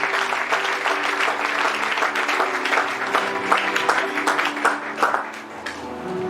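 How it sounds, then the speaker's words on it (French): A congregation applauds during a prophetic church service, steady dense clapping from many hands lasting several seconds, with a voice speaking faintly beneath the applause. "Can you clap for the Spirit of God?"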